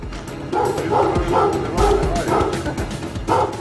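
A puppy tethered inside a cage barks and yips repeatedly nearby in short, excited bursts, with some whimpering between the barks.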